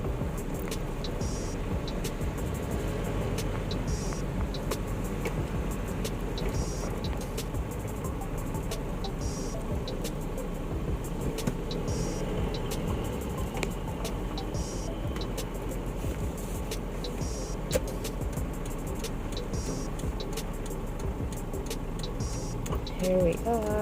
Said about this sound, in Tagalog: ganito lang talaga guys yung dami ng sasakyan dito